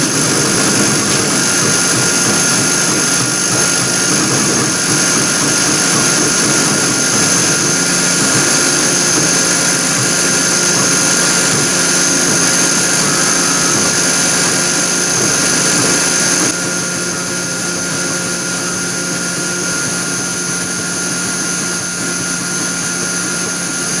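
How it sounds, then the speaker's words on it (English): A laser engraver fusing paint onto a stainless steel surface gives a steady, loud machine hum and whine throughout, with the level dropping slightly toward the end and no talk. "it's going to seem like it's engraving quite slow, but we need to get the heat to fuse the paint to the stainless steel surface"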